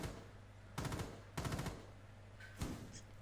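Video game gunfire in a few separate bursts of rapid shots, moderately loud over a constant low background hum.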